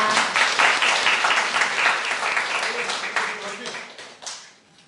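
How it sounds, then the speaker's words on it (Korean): An audience at a research institute opening seminar applauds Professor Ahn Shin, steady dense clapping from many hands that fades out near the end, with a voice speaking over it. "소장님이신 안신 교수님께 축하 격려의 박수로 응원해 주시면 감사하겠습니다"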